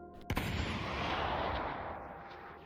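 A weapon fires in a video game: one sharp loud blast followed by a long rumbling roar that slowly fades.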